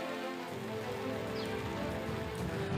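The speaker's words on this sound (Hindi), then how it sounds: "लखीमपुर खीरी में लगातार हो रही भारी बारिश" Heavy, continuous rain pours down during flooding in Lakhimpur Kheri, a dense, steady hiss on surfaces with no pauses or voices.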